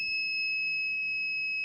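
An alarm buzzer on a smart room project sounds as a steady, piercing electronic tone that holds unbroken and fairly loud for the whole moment, with nothing else audible.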